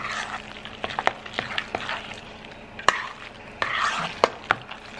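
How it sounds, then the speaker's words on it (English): Seasoned ingredients with salt and black pepper being mixed, with soft scraping and stirring sounds and sharp clicks of a utensil against a bowl in irregular bursts, close and fairly quiet. "And now we're gonna mix it."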